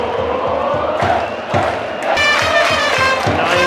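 Crowd of baseball fans cheering continuously inside the Tokyo Dome at a Tokyo Giants game, a dense roar with rhythmic chanting or clapping beats throughout.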